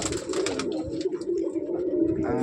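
Pigeons coo steadily in a small loft in Sodhpur, a soft continuous burble of several birds close by with no talk over them.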